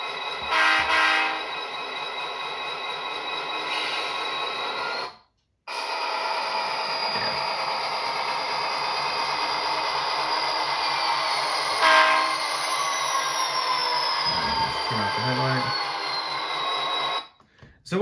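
An Athearn SD40-2 model locomotive runs on a dirty test track, giving a steady electric whine and sustained horn-like sound effects, close and continuous, dropping out briefly twice as power cuts.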